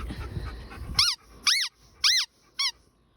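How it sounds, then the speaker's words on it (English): Homestead dog playing in the yard, giving four sharp, high squeaky yips after a stretch of low rumbling noise, each yelp rising and falling quickly, close and loud. "There's my dog."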